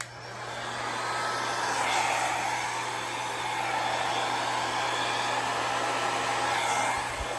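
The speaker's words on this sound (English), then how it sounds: "here goes the first bloom, which I'm going to do with a hairdryer" A hair dryer blows in a steady, loud whoosh with a motor hum, running continuously throughout with no talking, used on wet acrylic paint.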